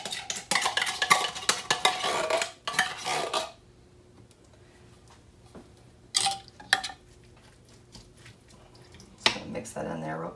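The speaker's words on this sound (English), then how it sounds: "Mix that in there real quick." Tomato soup is stirred into stuffed pepper soup in a slow cooker: a loud run of spoon scraping and clinking against the pot, then a quiet gap, followed by a few more separate clanks and stirs.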